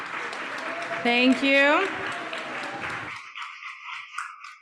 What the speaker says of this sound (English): give a big round of applause for our Yukon U team